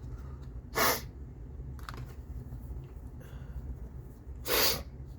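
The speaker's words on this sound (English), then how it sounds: "I know how annoying my sniffling is." Two sharp, brief sniffles spaced a few seconds apart, close and fairly clear over a quiet room with faint handling noises between them.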